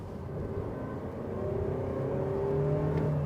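A Toyota Innova Hycross with a CVT gearbox is pushed hard on the accelerator, its engine droning from inside the cabin as a steady, slowly rising rev that holds and climbs rather than shifting.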